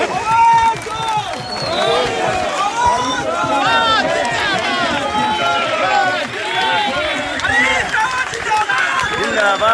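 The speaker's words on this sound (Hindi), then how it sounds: "जोरदार तालियों के साथ" Dense crowd noise at a rally, with loud continuous cheering, chanting and clapping filling the whole stretch, voices mixed in throughout.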